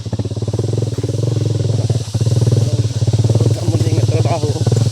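A motorcycle engine labours steadily while hauling a load of wood, a continuous droning rumble heard up close throughout, with people talking over it.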